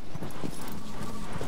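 Hooves of the horse Agro clip-clop in the video game Shadow of the Colossus, a quick uneven patter of hoof falls on the ground, moderately loud and continuous with no clear speech.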